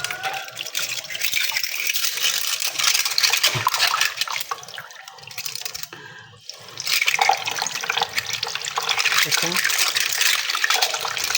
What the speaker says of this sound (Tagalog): Iisa-isahin ko talaga pag maghugas ako ng kutsara.